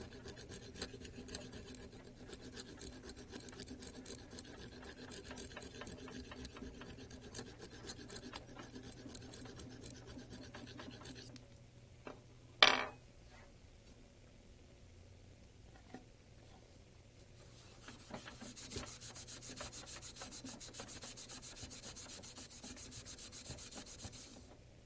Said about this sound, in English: Use a file or sandpaper to remove the burrs from the shaft bolt holes and set screw of the lock ring.